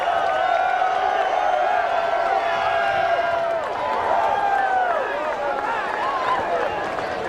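Sellout stadium crowd at a Kansas State versus Oklahoma college football game, a sustained roar of cheering and clapping with a brief dip and swell midway, under continuous commentator talk.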